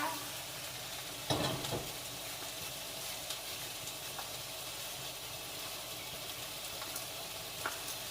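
Bacon sizzles steadily in a pan at breakfast, with occasional stirring scrapes and spatter over a constant frying hiss, close and moderately loud.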